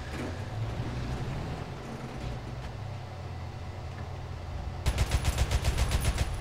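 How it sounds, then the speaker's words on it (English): Aircraft machine gun fire in War Thunder, from an AC IV Thunderbolt in a simulator battle: after several seconds of steady engine drone, a fast, close burst of rapid shots breaks out and rattles on to the end. "Either I killed him with my machine gun or he jumped out"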